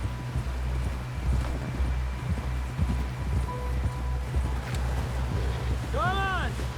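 Horse hooves clip-clop steadily over ground in Red Dead Redemption 2, a quiet, even rhythm running throughout under low ambient noise, ending with a horse's whinny.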